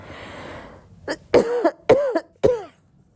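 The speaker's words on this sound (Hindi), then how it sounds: "बोलते बोलते ना मैं गला सूखता है, खांसी आने लगती है" Several hoarse coughs from a dry throat while talking, in a quick uneven series, close and fairly loud, after a moment of near silence.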